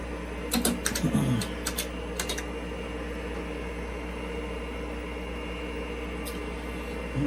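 Several bursts of clicking keystrokes on an IBM PC keyboard being hammered hard, close and sharp, clustered in the first couple of seconds and again briefly later, over a steady background hum.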